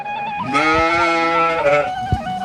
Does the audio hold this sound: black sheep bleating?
yes